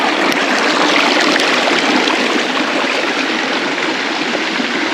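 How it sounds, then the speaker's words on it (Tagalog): Steady rush of flowing mountain spring water, loud and close, a continuous gurgling stream with no pauses. "Ito yung tubig, mga kapatid."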